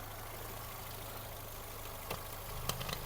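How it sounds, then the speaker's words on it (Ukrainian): A naturally aspirated petrol engine in an Audi A3 idles steadily with a low, even hum, joined near the end by a few brief clicks and knocks. "Двигун працює чітко, екологія на місці"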